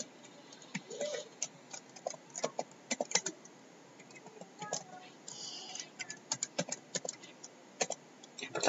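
Keys clatter on a computer keyboard as data is typed by hand into a Minitab worksheet, coming in quick irregular bursts of light clicks with short pauses, close and fairly quiet.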